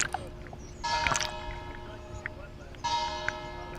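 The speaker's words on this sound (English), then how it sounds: "Pardon the bells." Church bells ring at noon by the sea in bright, resonant strikes, coming in two bursts over faint background noise and water sounds.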